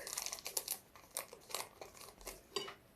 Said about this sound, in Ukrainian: цукор висипаю також сюди і ванільний цукор пакетик